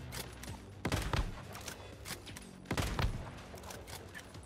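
Sniper rifle fire in the online survival shooter Once Human, two sharp heavy shots a couple of seconds apart over a busy game soundscape of smaller crackling effects.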